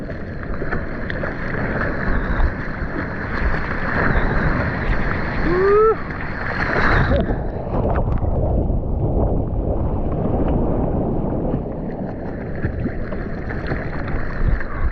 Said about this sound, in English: So I'm paddling back out in the corner again.